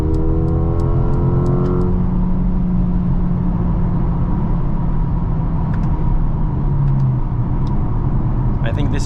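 A 2023 Mercedes GLA 35 AMG with an 8-speed DCT drives with a loud, steady engine drone and road roar, and a brief rising tone early on, while a person talks over it.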